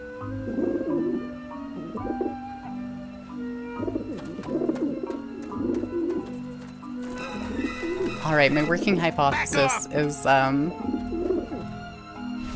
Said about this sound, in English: So I need to find a way to keep these aggressive pigeons from coming back there.